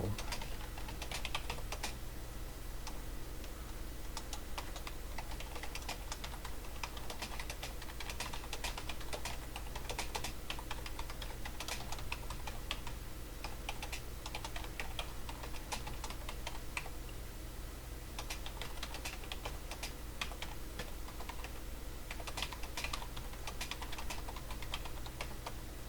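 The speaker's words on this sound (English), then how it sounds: "the reply could just be typed in here" A computer keyboard clatters with continuous typing as a reply message is entered, dense, quick keystrokes over steady background noise with no talk.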